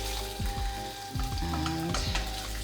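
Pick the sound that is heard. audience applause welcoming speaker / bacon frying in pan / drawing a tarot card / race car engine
bacon frying in pan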